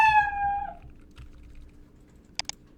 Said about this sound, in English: I don't like him meowing that long